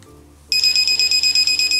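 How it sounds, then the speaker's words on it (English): An electronic alarm from a Medelert automatic pill dispenser starts abruptly and beeps in rapid, steady pulses, loud and close, with a high-pitched tone repeating about twelve times. "Simply set up to 6 reminder alarms."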